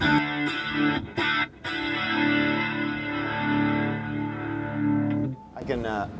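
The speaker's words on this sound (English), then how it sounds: "Now I can kind of squish the compressor, so it sounds like." An electric guitar chord through an Electro-Harmonix compressor pedal rings out with a squashed, even sustain and a slight warble, cut off briefly by short breaks, then fades.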